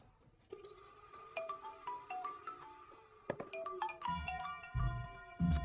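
Mobile phone ringing with an incoming call in a Hindi horror film, a melodic electronic ringtone of bright repeating tones over faint background noise, growing fuller toward the end.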